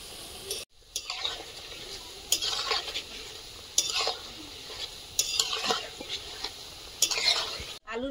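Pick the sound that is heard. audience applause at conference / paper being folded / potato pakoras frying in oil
potato pakoras frying in oil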